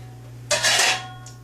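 A cast iron skillet is handled with one brief broadband clank and scrape lasting about half a second, followed by a faint second touch, over a steady low electrical hum.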